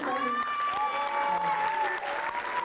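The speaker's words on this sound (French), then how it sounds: "On peut les applaudir." Steady applause from an audience greeting a visiting public school group at a film screening, a continuous even wash of clapping throughout, with some faint voices and whistles mixed in.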